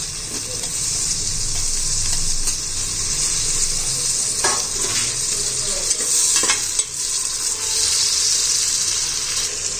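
Tomato pieces fry in a pan for chicken biryani with a loud, continuous hissing sizzle, broken by a few scraping stirs against the pan, close and steady throughout without speech.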